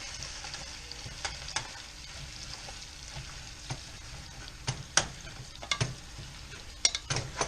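Meat sizzles in a big pot while browning for homemade goulash, a steady close crackling hiss with scattered sharper pops and a few stirring scrapes, no talking.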